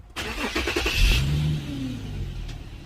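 An Infiniti G37 engine cranks and catches after a spark plug replacement, with a quick whirring starter and a brief rise in revs, then settles into a steady low idle hum.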